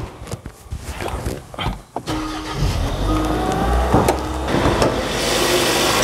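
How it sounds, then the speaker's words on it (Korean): A Kia Stinger AWD car engine cranks and catches, then settles into a steady idle rumble, heard close up after some rustling and clicks. "제가 시동을 걸고 엔진룸을 보여드릴게요"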